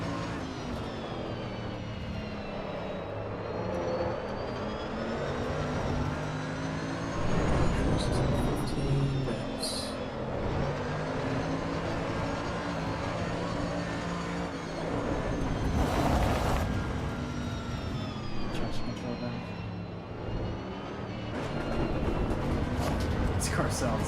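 A race car engine in Assetto Corsa Evo whines and revs continuously, its pitch climbing and falling through shifts, steady and prominent beneath someone talking over much of it.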